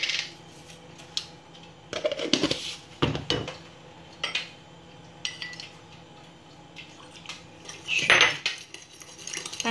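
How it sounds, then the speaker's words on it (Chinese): Ketchup, black vinegar and sugar are stirred together into a sweet-and-sour sauce. A utensil clinks and scrapes against a dish in scattered bursts, with a louder clatter near the end. "拌成酱汁。"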